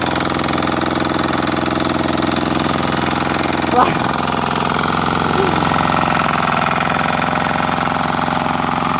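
A walk-behind tractor's engine runs continuously as the machine slips in a forest, a steady, loud, rumbling drone with raised voices shouting over it.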